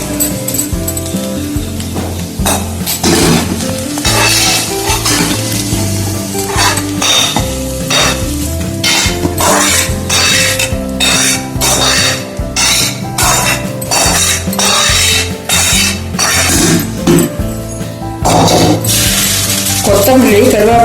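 A fried tempering of mustard seeds, ginger, asafoetida and green chillies is stirred into sorghum dosa batter with a spoon, making repeated wet slapping and scraping strokes against the bowl along with light clinks. The sound is close and busy.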